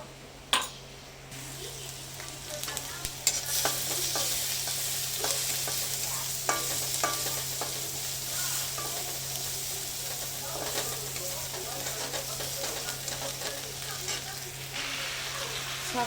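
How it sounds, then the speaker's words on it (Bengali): Onion and dried red chilli sizzle steadily in hot oil in a home kitchen, a continuous close frying hiss broken by scattered clicks and stirring knocks, with a faint voice now and then. "এই যে পেঁয়াজ আর শুকনো লঙ্কা ফোড়ন দিয়েছি"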